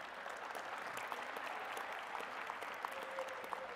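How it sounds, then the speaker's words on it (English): A crowd at a 2022 graduation ceremony applauds the graduating class, a continuous, distant-sounding wash of many hands clapping with a few sharper claps poking through. "Can we give a big round of applause to them one more time?"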